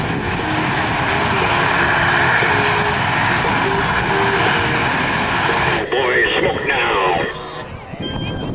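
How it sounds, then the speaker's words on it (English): Merlin-engined aircraft drone loudly and continuously overhead at the Windsor Airshow, a steady propeller roar under an announcer's voice over the loudspeakers. "Merlin engines powered this aircraft."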